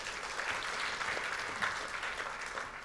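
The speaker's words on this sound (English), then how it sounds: "Can we give them a round of applause?" An audience at a community meeting claps steadily for elected officials, a dense, even wash of applause from a moderate distance that holds without pause.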